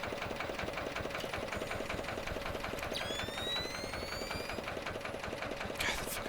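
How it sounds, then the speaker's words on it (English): A steady mechanical engine drone from the Splinter Cell Chaos Theory video game runs constantly through the whole stretch, with a regular pulsing rhythm and a few faint higher chirps over it, no speech. "God, the fucking engine's annoying."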